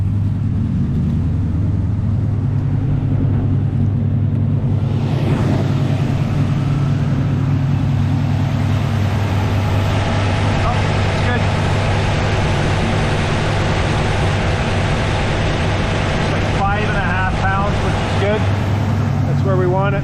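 A hot Pontiac engine idles steadily at about 1100-1200 RPM, a deep, even drone close by, while a person talks over it.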